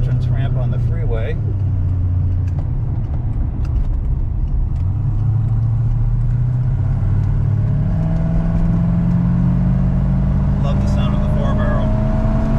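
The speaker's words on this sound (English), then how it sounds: "Love the sound of the 4-barrel." A 1970 Rover P6 3500S with a four-barrel carburetor accelerates onto a freeway, its engine a steady loud drone rising in pitch, heard from inside the car with a voice briefly talking over it.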